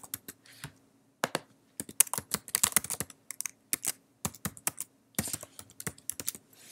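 An email address typed on a computer keyboard: a close series of crisp, irregular key taps in quick bursts with short pauses, alone and fairly clear.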